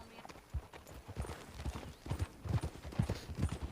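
Horse hooves clip-clop in Red Dead Redemption 2, a quick, uneven run of hoof strikes at close range with faint game voices in the background.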